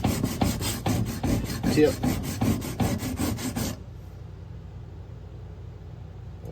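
A skinner knife edge is stroked repeatedly across a sharpening stone to pull a burr, a rapid series of rasping scrapes about four per second that stop abruptly, leaving quiet room tone. A voice speaks briefly.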